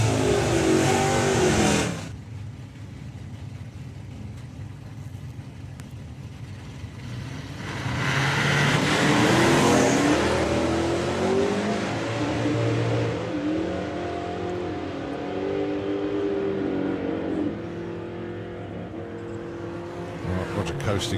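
Drag racing cars, including Camaros, launch and accelerate down the strip at a drag event, loud engine roars building and fading with crowd noise and talk in between.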